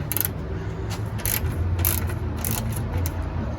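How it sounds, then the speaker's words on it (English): A ratchet loosening a bolt on the radiator of a Ford F-250 to F-550 series truck. It gives repeated close clicking strokes over a steady low background hum, with no talk. "We'll try to remove it, the ratchet right here. Alright, so I'm just loosening it."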